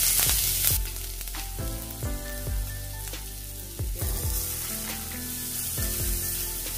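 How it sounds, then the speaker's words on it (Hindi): Onions frying with garlic, ginger, green chilli and cumin in a pan for a potato bread roll filling, giving a steady close sizzle with a few stirring knocks throughout. "जैसे ही प्याज अच्छे से ब्राउन हो जाए तब तक हम इसको भून लेंगे"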